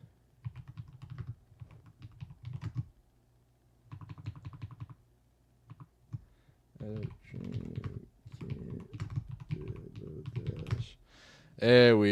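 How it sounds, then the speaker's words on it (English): Keys clatter on a computer keyboard in bursts of rapid typing, with pauses between runs. Someone talks over the later stretches. "Y'all like the way my keyboard sounds?"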